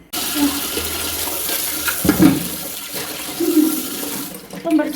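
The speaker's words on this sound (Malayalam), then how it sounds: "ഇനി ഇത് പാത്രം കഴുകട്ടെ" A kitchen tap runs into a sink as dishes are washed, water splashing and gurgling in uneven bursts with a louder rush near the middle and the end.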